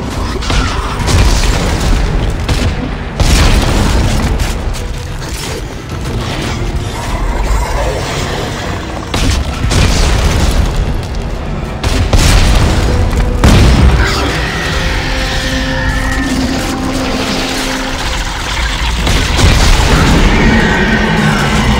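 A shotgun fires in Dead Space 3 amid loud game action, heavy booms and mechanical clanks recurring through a dense, continuous mix of effects and music.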